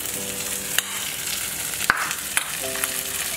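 Spices frying in a pan for a chhana (paneer) curry cooked as a Maha Ashtami bhog offering, giving a steady close sizzle broken by a few sharp clicks and scrapes of stirring.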